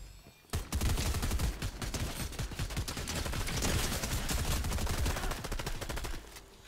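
Rapid, dense bursts of automatic gunfire from an overpowered gun in a shooter video game, continuous and loud for several seconds after a sharp onset, ending abruptly.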